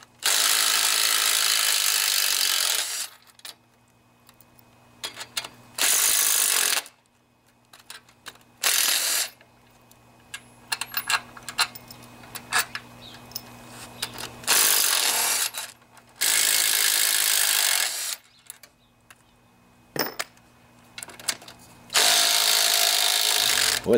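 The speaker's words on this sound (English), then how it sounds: "I wonder if that's loose enough for my weak ass little drill to work now" A small, weak cordless drill with a socket whirs loudly in repeated bursts of several seconds, loosening stiff bolts on a Briggs and Stratton 12.5 HP flathead engine, with quiet clicks and handling noises between runs.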